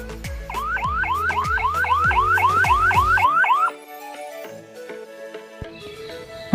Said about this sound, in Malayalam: അപ്പോൾ നമ്മുടെ ബസർ ഓൺ ആവും.